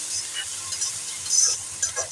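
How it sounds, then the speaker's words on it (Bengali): Chopped onion with chili frying in a pan over a medium-low gas flame, a soft, even sizzle with light stirring scrapes, close but fairly quiet. "সঙ্গে আমি একটু পেঁয়াজ কুচিয়ে রেখেছিলাম, পেঁয়াজটাকে দিয়ে দিলাম।"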